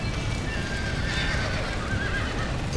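A horse in the video game Red Dead Redemption whinnies with a rising, wavering neigh while its hooves clip-clop underneath, a close, steady sound with no talking over it.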